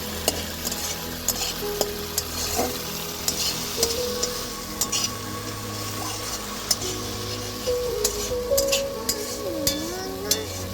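A paste of ginger, garlic, onion and dried chili sizzles and is stirred in oil left from frying river fish in a rural village kitchen, with steady frying hiss and repeated scraping clinks of a spatula against the pan.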